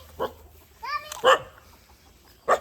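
A puppy barks a few times nearby, short sharp yelps separated by pauses, with a quiet outdoor background between them, in Balipara, Assam.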